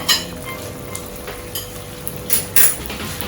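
Tomato dropped into a pot of simmering Jamaican-style corned beef, a soft steady sizzle with a few sharp clinks of a spoon against the pot.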